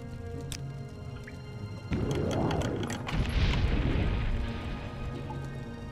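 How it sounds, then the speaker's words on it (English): A fire trap goes off in the video game Morrowind, a sudden low whooshing burst that swells into a roaring, rumbling blaze lasting a few seconds before easing off. "Fire trap."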